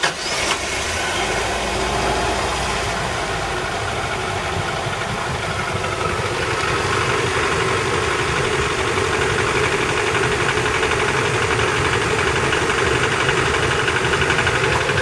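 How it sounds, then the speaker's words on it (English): A 1996 Toyota Town Ace's worn engine cranks and catches, then settles into a loud, rough, continuous idle with a steady low rumble and vibration close by; no talking. "let's see how this poor old tortured engine sounds now that I've done all this work to it."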